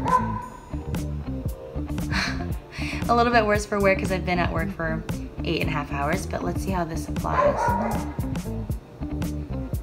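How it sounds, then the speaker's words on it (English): Dogs outside bark and yip repeatedly in a rapid, irregular string, moderately loud and slightly distant, while someone talks indoors over the barking. "There's so many dogs outside."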